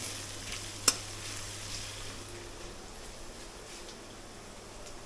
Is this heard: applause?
no